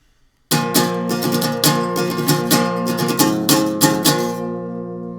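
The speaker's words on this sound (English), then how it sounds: "Now the part just after the first chorus, he starts strumming really fast." An acoustic guitar is strummed fast in a driving down-and-up pattern for a song, loud and close, each stroke cutting in sharply before the chord rings out.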